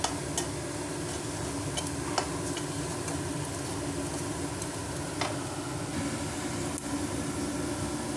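Turmeric and salt being stirred into a hot pan give a steady sizzling hiss throughout, broken by scattered light ticks and clicks of the spoon against the pan.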